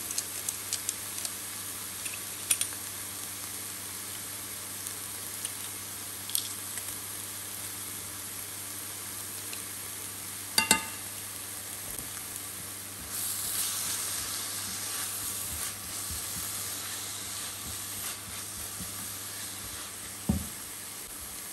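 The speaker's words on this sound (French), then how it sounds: "On fait rissoler pendant quelques minutes. Voilà, je rajoute mes 2 gousses d'ail." Onion and garlic browning in a pan for a chicken and mushroom pasta gratin, a soft, even sizzle running throughout with a few scattered clicks and one sharp knock, quiet and steady with no talking.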